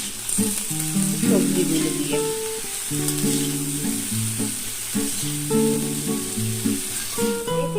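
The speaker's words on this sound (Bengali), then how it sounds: "ভালো করে নাড়াচাড়া করে আমি এটাকে একটু ভেজে নেবো" Malabar spinach seeds frying in a pan with salt and turmeric, giving a steady soft sizzle that runs throughout, partly masked by tuneful background music.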